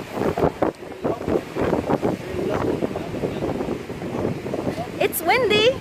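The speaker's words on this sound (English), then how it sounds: "It's windy, but it's fun." Strong wind buffets the microphone on a beach, a loud continuous rumble with gusts while a person talks over it.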